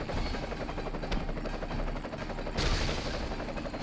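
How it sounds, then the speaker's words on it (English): A helicopter in the game The Suffering thrums loudly and continuously with a dense rotor roar, while bursts of rapid gunfire crackle through it. "Why am I shooting this helicopter?"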